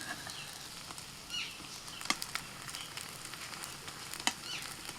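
A paneer and potato snack fries in oil in a pan on the stove, giving a soft, steady sizzle with occasional small pops and crackles, fairly faint and without talk.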